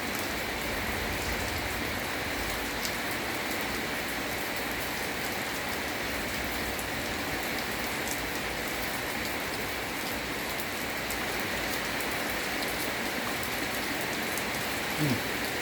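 Steady rain pours down without pause, a dense even hiss of drops striking surfaces close by that holds at the same level from start to finish.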